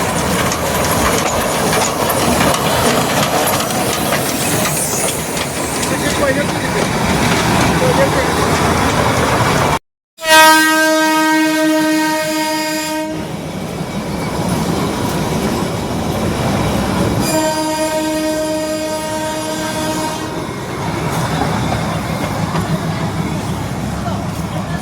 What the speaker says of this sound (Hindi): अगर आपकी किस्मत अच्छी रही तो यहीं से आपको दार्जिलिंग की मशहूर टॉय ट्रेन गुजरती हुई दिखाई दे सकती है।